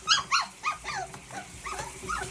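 Several dogs in a tub during a four-in-one bath after mud wrestling, giving a few short, close whines and yelps at the start, then softer whimpering and sounds that continue quietly.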